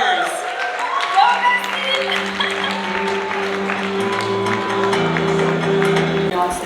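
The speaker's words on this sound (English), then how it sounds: "A round of applause for the content creators." A crowd applauds content creators at a live stream event; steady clapping runs throughout, mixed with sustained musical tones and a background of voices.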